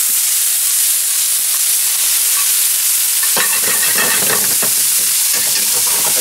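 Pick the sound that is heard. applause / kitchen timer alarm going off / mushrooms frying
mushrooms frying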